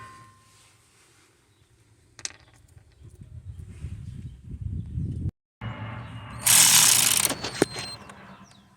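Ratchet with a 13mm socket working the original rear brake caliper mounting bolts on a 2015 Dodge Grand Caravan, quiet clicks building into louder metallic rasping and a sharp burst of scraping near the end, close up.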